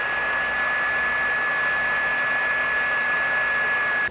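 A heat gun blows continuously while sealing heat-shrink wire connectors on a trailer brake controller wiring kit, a loud, steady whooshing hiss with a faint whine, cutting off sharply at the end.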